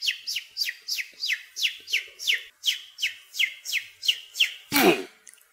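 A person whistles bird sounds, imitating a bird with about a dozen quick, evenly spaced rising chirps, followed by a brief breathy burst at the end. The calls are clear and close, with no other sound.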